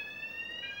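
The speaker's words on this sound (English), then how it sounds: "And that is the alarm sounding," A laser lab alarm sounds as lasers are switched on, a steady high electronic tone with several stacked harmonics that holds without a break at moderate volume.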